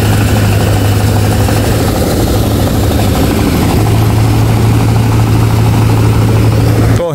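A head feed thresher machine threshing rice runs with a loud, steady mechanical engine drone that holds constant throughout, close up and with no voices.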